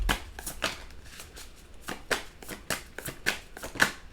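Tarot cards being shuffled by hand during a reading, a series of crisp riffling bursts in quick irregular rhythm, close and fairly quiet, with no talking.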